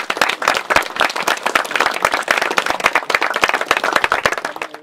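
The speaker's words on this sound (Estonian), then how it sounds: "teeme kõik koos nendele suur aplausi." A crowd at a village reunion claps together in dense, lively applause with many distinct hand claps, loud and close, with no talking over it.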